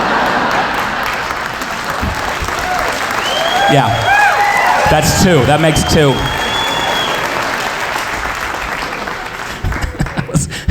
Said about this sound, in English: I'm gonna count that as an applause break.